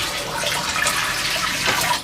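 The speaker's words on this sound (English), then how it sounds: "let's pour this dirty water out again" Dirty water poured out of a container while rinsing away bleach residue, a steady close splashing gush that runs without pause for about two seconds.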